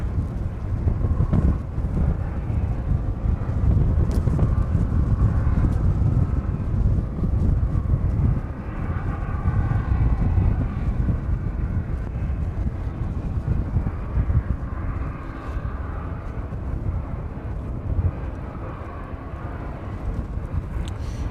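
A Jet2 airliner arriving from Krakow approaches East Midlands Airport from the south under cloud cover, giving a broad, distant rumbling roar that carries steadily through windy air.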